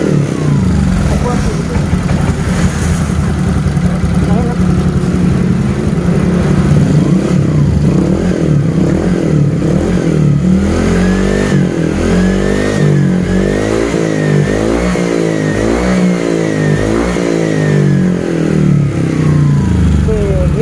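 Honda Vario scooter engine bored up from 125 to 150 cc, revving repeatedly from idle in rising and falling surges, loud and close, with a continuous mechanical hum throughout.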